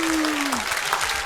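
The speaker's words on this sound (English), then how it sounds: "Your first assignment is a success. You get an applause." A small group of friends at a dirty-thirty birthday gathering claps briefly and close by, a dense patter of hands under a short vocal tone at the start.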